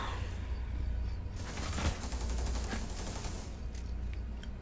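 Shotgun and other gunfire in a Rainbow Six Siege match, a dense sustained stretch of overlapping shots and game noise with no clear gaps, loud throughout.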